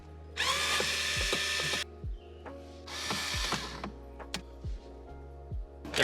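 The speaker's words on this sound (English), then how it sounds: "the head unit is connected by these two screws, so we're just going to unscrew them" A power drill unscrews the two screws holding the head unit in a 10th-gen Honda Civic, with two sustained whirring bursts, each several seconds long, near and loud, followed by scattered clicks and knocks of parts being handled.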